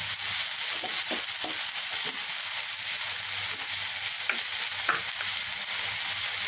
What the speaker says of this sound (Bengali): পেঁয়াজ রসুনগুলো ভালোভাবে মিশিয়ে দিলাম একটু রসটা শুকিয়ে এলেই আমি নামিয়ে নেব